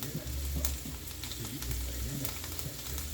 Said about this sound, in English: Just be careful with the popping oil.